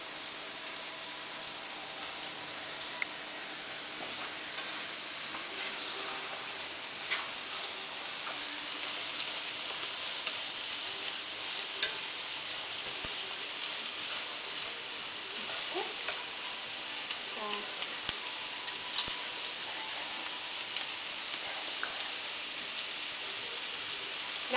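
Vegetables for pasta primavera sauté in a pan, a steady, fairly soft sizzle and crackle that runs throughout with occasional small pops and stirring clicks, and no speech.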